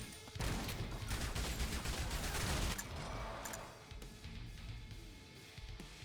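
Rapid automatic fire from a long-range turret mowing down zombie hordes in a squad-building roguelite game, a loud sustained burst for about two seconds that then thins into scattered, quieter shots.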